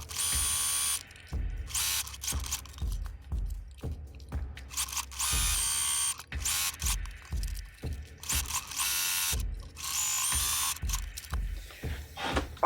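Sewing machine stitching pockets onto trousers made from thrifted sheets, running in repeated bursts of rapid mechanical stitching separated by short pauses, close and steady throughout.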